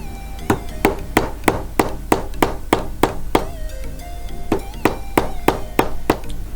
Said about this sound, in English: you can try blunting the tip of your nail before you hammer it, which can be easily done with the help of a hammer